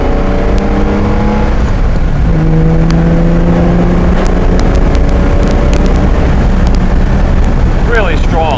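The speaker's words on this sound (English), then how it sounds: "what you'll see with the engine, it really revs nicely." A 1965 Jaguar XKE Series I 4.2 Roadster engine roars loudly with rising and falling pitch sweeps as it revs and accelerates, mixed with heavy wind buffeting.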